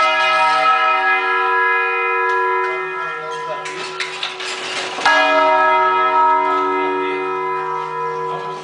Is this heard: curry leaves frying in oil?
no